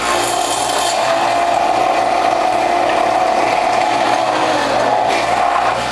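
A juicer with a Near Zero blowback cutter spinning at 3,500 revolutions a minute grinds French sorrel, a loud, close, continuous mechanical whir with a faint rattling texture and a steady tone.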